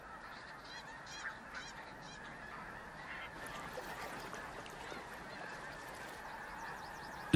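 Geese honking repeatedly in short nasal bursts, several birds calling over a steady outdoor background in the Canadian wilderness in spring, moderately distant.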